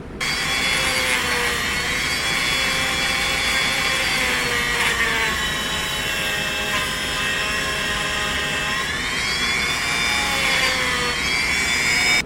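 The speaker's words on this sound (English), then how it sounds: "I'm going to open up the mouth a little bit with the Dremel and make that just a big chasm" A Dremel rotary tool carves into a wooden boat, a continuous loud high-pitched whine that wavers slightly in pitch as it grinds steadily into the wood throughout.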